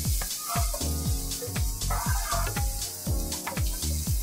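Garlic, ginger, chopped onions and green chilies sizzle loudly in a hot pan for a fish fillet chili dish, a constant close frying crackle with repeated scraping stirs.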